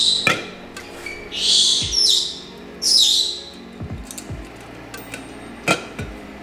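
Several pet parrots indoors call excitedly, with bursts of loud, close squawks and shrill chirps separated by sharp clicks and taps.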